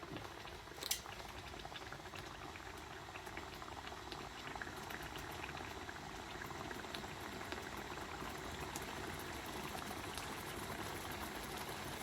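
Oil bubbles in a pot of chicken korma with a dense, steady crackling and sizzling that carries on evenly from start to finish, close and moderately quiet, with no talking.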